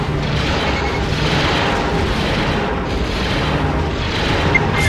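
Inside the Star Wars TIE Fighter space combat game, a missile explodes as a deep rumbling boom that rolls on continuously, loud and dense, with no voices over it.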